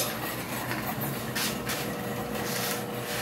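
A 1930s Delta scroll saw runs at its lowest speed, giving a steady, close mechanical clatter and whir that holds even through the short clip.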